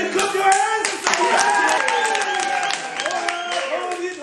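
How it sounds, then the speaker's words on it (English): An audience at a Free Friday team-building event claps hands, brisk scattered clapping mixed with crowd noise and a strong musical or vocal layer. "Can you clap your hands?"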